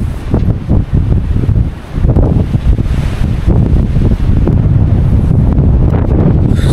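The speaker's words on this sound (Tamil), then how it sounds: "ஸோ காற்று கொஞ்சம் பயங்கரமாக அடிக்குதுங்க" Strong gusty wind on a hilltop buffeting the microphone, a loud continuous low roar with surging gusts and a brief dip near the two-second mark, no speech.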